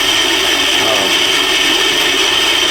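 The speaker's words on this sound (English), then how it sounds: "That noise you hear is them bearings touching" A woodworking band saw runs with its bearings rubbing against the blade, producing a loud, steady whirring grind with a scraping, rasping edge and no breaks.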